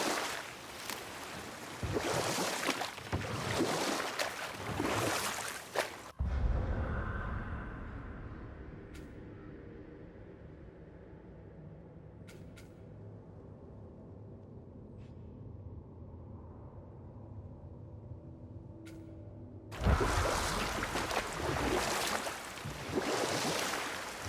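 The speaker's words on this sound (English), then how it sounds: "Keep rowing towards the statues of the oarsmen" A boat being rowed across water in the God of War video game, with a steady wash of water and gentle lapping under a low ambient bed, plus a few faint knocks, bracketed by louder game sound at the start and end.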